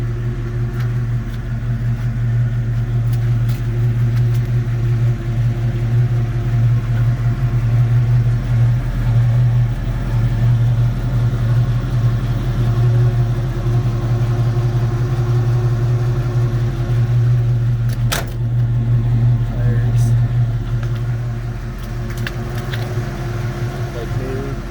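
A 1967 truck engine runs at a steady idle close to the microphone, a loud continuous low rumble that holds evenly throughout with a faint brief knock partway through.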